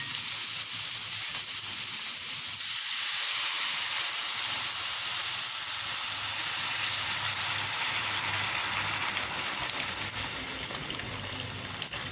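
Water poured into a hot pan of pancit guisado noodles, giving a loud, steady steamy sizzle and hiss that fills the clip without a break.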